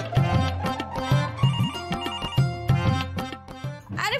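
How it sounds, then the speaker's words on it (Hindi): A telephone rings in a domestic TV drama scene, with a repeating electronic ringtone pattern of regular bursts that continues steadily and stays close and clear throughout, with no talk over it. "अरे क्या अच्छा फोन उठो ना"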